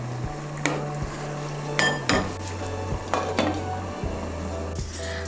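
A metal pot of mung dal and cauliflower is covered with its lid while cooking, giving several close clanks and clinks of lid against rim over a low background hum.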